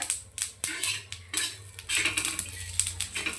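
A utensil stirs and scrapes masala with poppy seeds as it sautés in a pan for black-masala country chicken curry, close, irregular metallic clinks and scraping strokes over a faint sizzle, with no talking.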